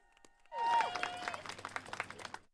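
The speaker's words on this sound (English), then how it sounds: "Round of applause for my team, please." At a Good Trouble protest in DC, a crowd breaks into applause for the organizing team, swelling suddenly after a quiet moment with a loud whoop, then thinning into scattered claps.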